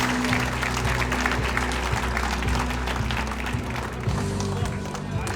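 An audience at an athletes' hall of fame banquet applauds, a steady, dense roll of many hands clapping in a large hall with scattered cheers, while a voice speaks faintly underneath.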